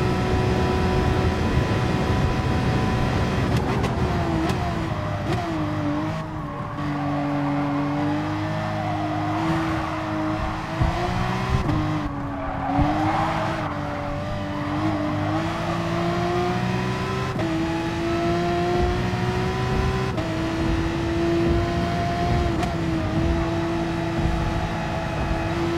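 Racing car engines in a Porsche racing video game, howling and climbing in pitch through gear changes, loud and sustained for the whole stretch, with brief tire squeal and no voices.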